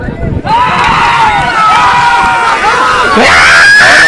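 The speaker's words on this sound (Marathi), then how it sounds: "गाडी सुटली ना जी ओरडण्यात जी मजा येते ना मैदानावर ती कशातच येत ना" A large crowd roars and screams at a rural bullock cart race at Kadav as a cart sets off, loud and sustained, with rising cheers near the end.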